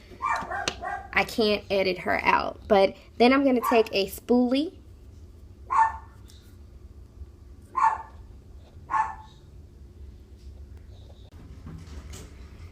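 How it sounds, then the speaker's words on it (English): A dog barks several times in short bursts after a stretch of close talking, the barks spaced a couple of seconds apart at moderate loudness. "That's my dog barking."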